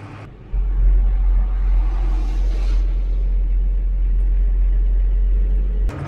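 A vintage Mercedes Unimog agricultural tractor-truck hauling a trailer during a maize harvest, its engine droning in a steady, loud low rumble at easy cruising revs, unbroken for several seconds before cutting off abruptly.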